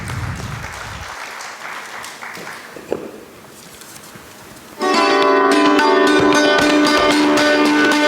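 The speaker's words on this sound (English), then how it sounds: "Please give him a big round of applause" A room of conference attendees at a climate innovation conclave in Indore. Quiet murmur comes first, then loud, dense applause bursts in about two-thirds through and holds steady to the end.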